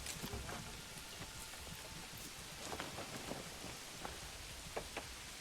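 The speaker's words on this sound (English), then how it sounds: "It's raining!" Steady rain pours in the medieval city-builder Manor Lords, a dense, even hiss across the whole clip with occasional heavier drips standing out, with no voices over it.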